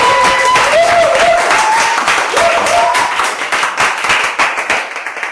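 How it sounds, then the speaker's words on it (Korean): Audience applause welcoming a guest, lively clapping continuing for several seconds with a tonal melody playing over it at the start, tapering slightly toward the end. "박수로 맞이하겠습니다"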